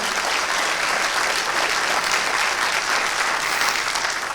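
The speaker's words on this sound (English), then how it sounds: "let's give the sister a round of applause for that great question." A dense, steady round of audience applause fills the whole stretch at a religious discussion after a woman's question, loud and continuous with no talk over it.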